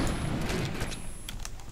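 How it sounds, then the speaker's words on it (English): Pistol shots in the sci-fi shooter Defiance: a few sharp, close reports in quick succession over a busy, constant background of game noise. "Let's use the pistol."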